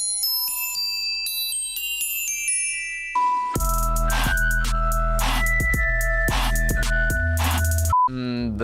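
Glockenspiel in a future bass track: bright, ringing metallic notes in a stepping melody, then a full mix enters with heavy sub bass and pulsing synths.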